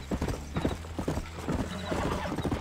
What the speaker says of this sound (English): Let's go, random horse that I just randomly decided to pick up.